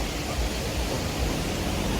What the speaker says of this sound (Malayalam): നമ്മൾ മൂന്നാർ പോകുന്ന വഴിക്ക് തന്നെ ഒരു വാട്ടർഫാൾസ് ഉണ്ട്